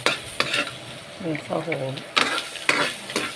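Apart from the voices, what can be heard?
sautéing pinakbet ingredients in pan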